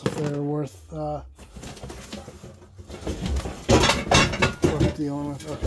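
A stack of pots, pans and Anchor Hocking glass baking pans from a storage unit is handled, giving a few scattered clanks and clinks amid rustling, mixed with talk and some cooing birds.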